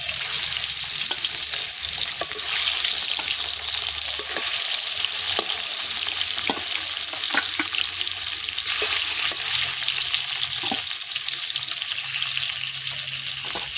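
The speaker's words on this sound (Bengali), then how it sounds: "মাছগুলো ভেজে নেব" Fish pieces sizzle loudly in hot mustard oil, a dense, continuous close-up frying crackle with scattered pops and spatters, no talking.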